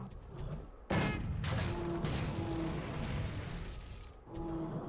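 Bowgun shots firing ammunition in Monster Hunter 3 Ultimate, a sharp loud burst near one second followed by sustained dense rumbling blasts and a later renewed impact, with no talk.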